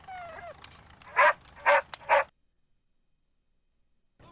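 A dog whimpers and then gives three short, sharp barks close by, followed by silence, in a scene from the horror film An American Werewolf in London.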